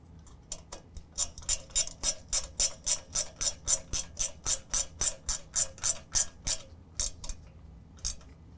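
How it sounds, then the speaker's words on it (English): A ratchet tightens a 7/16 bolt on the steering knuckle during a Fabtech 6-inch coilover lift install on a 2019 GMC Sierra 1500, giving a steady run of about twenty sharp, close clicks in quick rhythm, with a short pause near the end and no talking. "We're going to use a 7/16 wrench or ratchet to tighten that down."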